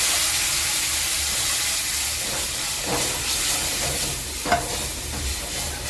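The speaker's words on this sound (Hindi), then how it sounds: "अब इसमें चीनी का पानी मिला उबाल के रखा था, इसको डाल देते हैं।" Boiled sugar water poured into roasted semolina in a kadhai for halwa gives a steady, loud sizzling hiss throughout, with a few brief stirring scrapes and bubbling pops near the end.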